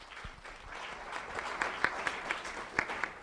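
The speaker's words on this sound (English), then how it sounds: "Round of applause for Aaliyah Swanson." An audience applauds a student named Aaliyah Swanson at a Lee County Sheriff's Office recognition event, giving steady, moderately loud clapping from a small crowd that fills the whole clip without speech.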